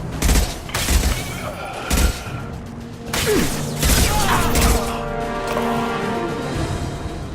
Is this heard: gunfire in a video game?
yes